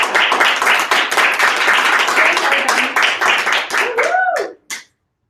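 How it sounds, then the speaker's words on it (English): A live audience at a motivational event breaks into loud, dense applause close by, with whoops and voices over it, before it cuts off abruptly near the end. "let's give everybody a round of applause"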